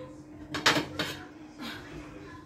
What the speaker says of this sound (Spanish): ahorita sí me voy a poner a freír las chuletas